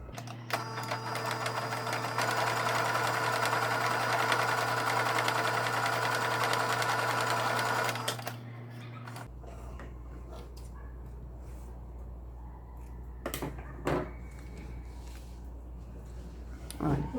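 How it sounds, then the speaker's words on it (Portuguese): A sewing machine stitches a seam on an Easter bunny-shaped toiletry pouch, whirring steadily and loudly for about eight seconds before stopping, followed by quiet handling and rustling. "a gente vai vir aqui e vamos passar uma costura aqui"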